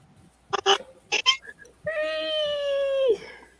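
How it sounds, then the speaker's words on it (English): A cat lets out a long, drawn-out complaining meow after a few short sharp sounds, close and clear in a quiet room. "Oh my God, the cat just complained."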